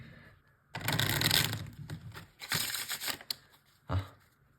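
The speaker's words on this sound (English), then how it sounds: "we're going to shuffle the cards again" Playing cards being shuffled by hand for a card trick, with a long riffling burst followed by shorter flicks and a final snap, close and fairly quiet with no talk.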